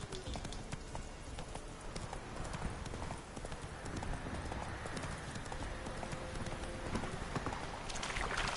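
Horse hooves gallop in a steady, continuous clip-clop in the Witcher 3 video game, running loud and even throughout with dense background ambience and no spoken words.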